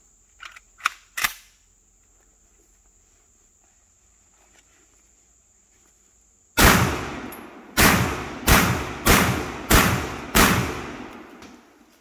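Six Remington slug rounds fired from an SDS Radikal SAX-2 semi-auto shotgun, a Benelli M4 clone, boom out loud and close in a fairly even series of blasts, each ringing out. A few sharp mechanical clicks come earlier, before the shooting.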